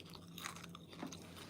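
Faint close-up chewing of crunchy, crispy skin, with two or three distinct crunches in a short burst and no talking.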